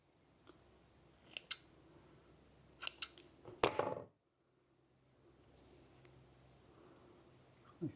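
Snips cut excess tie wire off a handmade wire-tied spinnerbait: a few faint clicks lead into a sharp, louder crunching snip, followed by quiet handling.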